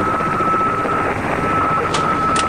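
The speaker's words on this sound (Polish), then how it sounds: "Helikopter Alfa prosi o pozwolenie na lądowanie." A helicopter drones steadily and loudly nearby, its engine whine constant with a throbbing rotor wash underneath, no voices present.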